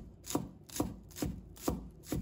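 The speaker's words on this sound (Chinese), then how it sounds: "再准备几根小葱，把葱白和葱叶分开切" A knife chops scallion whites on a cutting board in five evenly spaced, crisp strokes, close and fairly quiet, with no talk over them.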